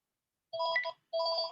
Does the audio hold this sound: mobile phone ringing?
yes